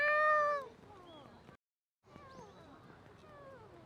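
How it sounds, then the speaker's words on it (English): A cat meows in Ueno Park, Tokyo, during cherry blossom season, giving a loud close drawn-out cry followed by a brief silence and then softer wavering meows against outdoor background. "It's a Ueno cat."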